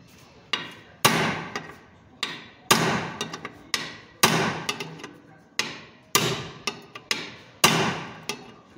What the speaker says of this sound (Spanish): Lo que vamos a ocupar es un punzón. Voy a agarrarlo con unas pinzas de presión porque no me quiero golpear.